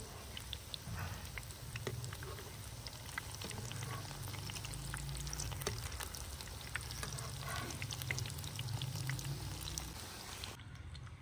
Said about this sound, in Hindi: कबाब को हल्की आंच पे तैयार करेंगे, ज़्यादा तेज़ आंच पे तैयार नहीं करेंगे